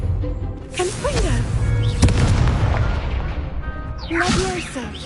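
Explosive Confringo spell blasts in a Harry Potter video game, with a heavy boom near the start and another burst later among whooshing magical effects and spoken voices, loud and close.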